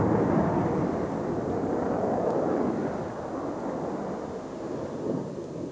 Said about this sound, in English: here is the frontline fighter of today's Royal Air Force, the Tornado F3, the air defense version of the swing-wing MRCA multi-role combat aircraft